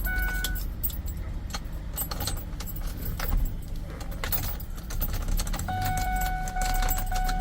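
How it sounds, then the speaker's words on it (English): Keys jangle and clink near the ignition of a Ford F-150 as it is switched on, a busy metallic rattle over a low vehicle hum, with a faint chime tone at the start and end. "I'm gonna turn the ignition on"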